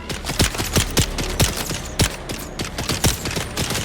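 Rapid bursts of gunfire in the video game Dune Awakening, sharp repeated shots in an uneven rhythm, loud and close, alone without talk.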